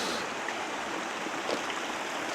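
Creek water flowing steadily beside a filtered underground spring on a hike in Kananaskis, Alberta, a constant close broadband rush with no talking.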